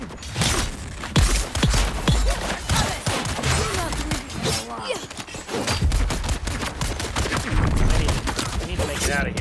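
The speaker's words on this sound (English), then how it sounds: "It's kind of hard when you have people shooting at him and sword fighting." Dense, loud gunfire with rapid bursts and clashing, metallic sword-fight impacts from a combat scene in the video game Dune Awakening, continuous and busy throughout, with some voice activity mixed in.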